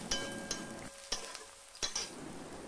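A pinch of turmeric fries in hot oil for potato masala, with a soft sizzle broken by a few sharp clicks of a spoon against the pan, all quiet and close.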